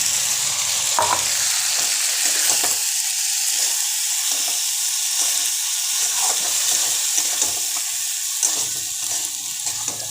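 Ginger, garlic, cumin and onion spice paste fries in hot oil for a prawn curry with potato and pointed gourd: a steady, loud sizzle throughout, with scraping stirs breaking through now and then and no talking.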